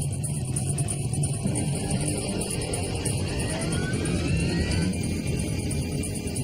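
A Boeing 757 airliner accelerates down the runway for takeoff in light rain, a loud, steady engine roar and deep rumble that holds continuously throughout with no voices.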